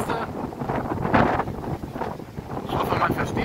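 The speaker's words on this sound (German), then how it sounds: "Ich hoffe, man versteht mich bei dem ganzen Wind." Strong, gusty autumn wind buffeting the microphone during a stormy e-bike ride through a nature reserve, a loud continuous rumbling roar that swells and eases, with a voice speaking faintly beneath it.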